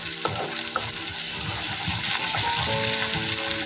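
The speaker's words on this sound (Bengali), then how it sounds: "এটাকে আমি ভাজতে থাকবো যতক্ষণ না এর কাঁচা গন্ধটা বেরিয়ে যায়।" Potatoes fry in a pan with ginger-garlic paste for aloo katli. Close, steady sizzling is mixed with stirring scrapes and a few clinks of the utensil.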